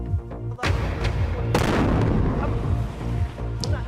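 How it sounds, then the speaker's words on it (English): Explosions at the airport of Aden, Yemen: several heavy booms and sharp blasts in quick succession over a dense, continuous roar of rumbling and crackling debris, loud and close, ending with a fainter pop. "Explosions have rocked the airport that serves the Yemeni city of Aden soon after a plane carrying the country's new government landed."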